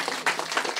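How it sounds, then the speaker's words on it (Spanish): Audience applause in a studio talk show, a short burst of clapping from a crowd, moderately loud with uneven swells over under a second. "Aplausos para ella,"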